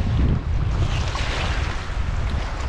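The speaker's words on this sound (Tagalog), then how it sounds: "Kalmatang dagat oh." Calm open sea around a small fishing boat: a steady, close wash of water and rushing wind noise, with no talking.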